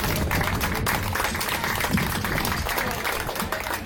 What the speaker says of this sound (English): Clap it up, first place, first place.